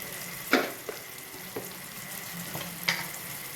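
A few scattered stirring knocks and scrapes sound in a pan of chicken with ginger garlic paste over a faint sizzle. The sound is fairly quiet and close, with no talking.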